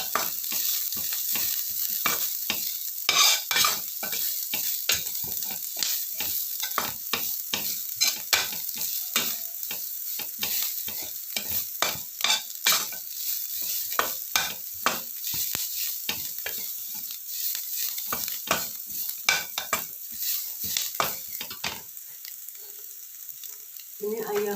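Chilies frying in hot oil in a pan, a steady bright sizzle with dense crackling pops and frequent utensil scrapes as they are stirred, close and continuous with no talking.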